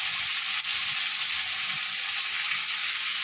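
Ground cumin, turmeric and salt with a little sugar sizzle in a pan as the spice mix is stir-fried for a potato and pointed gourd curry, a loud steady hiss with faint scraping stirs.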